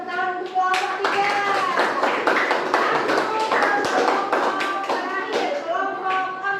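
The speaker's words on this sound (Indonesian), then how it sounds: "Sekarang tepuk tangan untuk kelompok 3." A classroom of students applauds after a group presentation, with steady clapping throughout and children's voices calling out over it.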